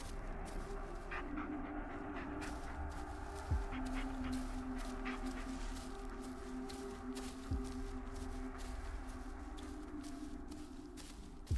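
A dog pants steadily and whimpers in a forest in the video game Blair Witch, close and continuous, with a couple of faint thuds and soft ambient noise.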